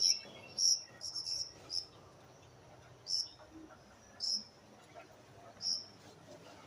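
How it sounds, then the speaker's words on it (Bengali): Crickets chirp in bright midday heat, sounding as a series of sharp, high, buzzy bursts spaced a second or so apart. They are fairly close and stand alone over a quiet background. "এই যে পোকা, ঝিঝি পোকা,"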